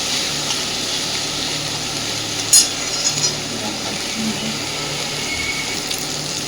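Egg stirred with taro stolons and potatoes in a pan, a steady frying sizzle with soft scraping stirs and a few light clinks of the spoon.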